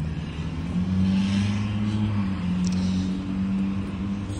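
A forklift stuck in mud revs hard and steadily at a rental yard, its deep engine drone holding loud and close throughout with slight rises and dips in pitch.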